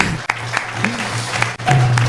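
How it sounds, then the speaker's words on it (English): At a Sunday vegan feast class, an audience gives a round of applause that runs as a steady wash of clapping, with voices talking over it throughout. "So another big round of applause"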